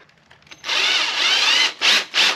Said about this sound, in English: I'm gonna drill right here.